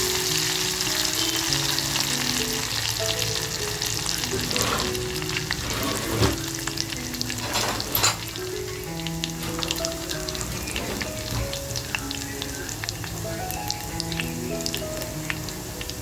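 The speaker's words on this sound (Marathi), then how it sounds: "त्याच्यानंतर बघा जी मिरची कापून घेतली ती मिरची टाकते" Garlic and chopped green chili fry in a heated clay pot, a continuous crackling sizzle with occasional sharper pops and stirring scrapes, close and without speech.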